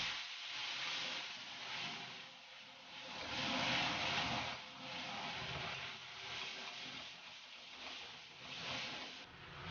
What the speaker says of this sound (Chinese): 大火开始翻炒均匀